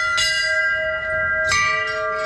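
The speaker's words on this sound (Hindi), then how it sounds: "काफ़ी ज़्यादा घंटियाँ देखने को मिल रही हैं यहाँ पे चारों ओर।" Temple bells ring at the Badrinath shrine, two bright metallic strikes about a second apart, each leaving a long sustained ringing tone that carries through the whole stretch with no talk over it.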